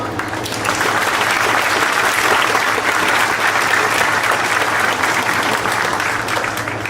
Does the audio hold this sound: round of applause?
yes